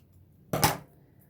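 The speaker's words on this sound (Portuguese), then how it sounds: "Vamos cortar aqui o nosso fio." A pair of scissors cuts through knitting yarn in one quick, close snip that stands alone against near silence.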